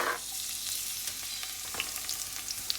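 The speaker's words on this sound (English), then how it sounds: "I have my garlic, green onion, regular onion, and pepper that I'm gonna put everything into the pan right now." Garlic, green onion, onion and pepper fry in oil in a pan, giving a steady, moderately quiet sizzle with scattered light pops and a few scraping stirs.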